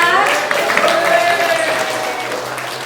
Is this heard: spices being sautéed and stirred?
no